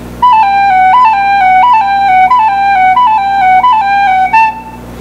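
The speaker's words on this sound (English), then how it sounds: "we did a 16th note cut and it sounds like this." A whistle plays a lively jig phrase, each repeated figure decorated with a quick sixteenth-note cut ornament. The line is bright and steady, played solo and close up.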